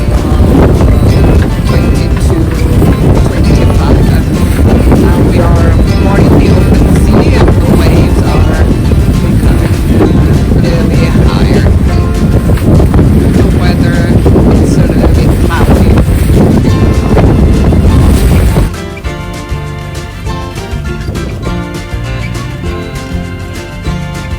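Strong wind of about 20 knots roars steadily around a sailboat off the Croatian coast, loud and continuous buffeting that drops to a lighter rush near the end.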